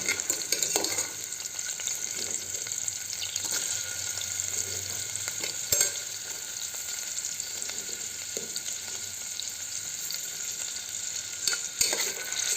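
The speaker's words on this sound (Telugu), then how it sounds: "ఆనియన్ తీసుకొని లైట్ బ్రౌన్ వచ్చేంత ఫ్రై చేసేసుకుందాం." Onion frying in a pan for broken wheat pulav, a continuous bright sizzle with intermittent scraping of a spoon as it is stirred, close and even throughout.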